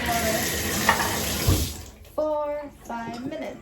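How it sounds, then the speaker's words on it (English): Warm tap water runs steadily while perm solution is rinsed out of spiral-permed hair at home, a continuous splashing flow that cuts off partway, followed by brief voices. "So now we're gonna rinse it out in warm water"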